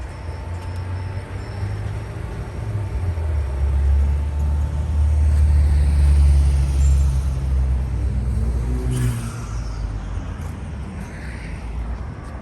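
A big 800-horsepower car engine idles at an outdoor car show in Oklahoma City, a steady deep rumble that swells slightly in the middle and stays close and continuous, with crowd ambience and no clear talk.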